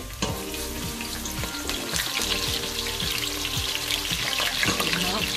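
Steady sizzling and crackling of onions frying in a pan, continuous and close, with occasional clinks of a utensil and no talking.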